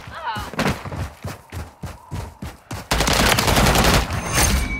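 Gunfire in Call of Duty: Modern Warfare III, a sharp, rhythmic burst of close automatic shots that gives way to a heavier, continuous roar of sustained firing.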